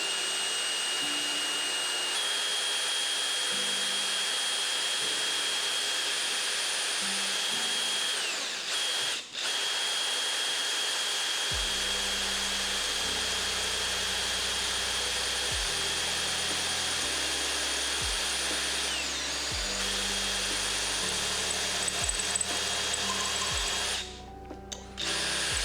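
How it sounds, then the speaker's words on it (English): A power drill whines steadily and loudly during car-tuning work, then the bit catches and stalls, the motor note lurching through choppy, stepped changes in pitch and strain before a brief clatter at the end. "The drill bit got stuck and it just twisted on the side."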